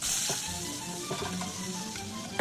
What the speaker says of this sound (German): die Pfanne und dünsten Sie darin eine Handvoll Garnelen ganz langsam.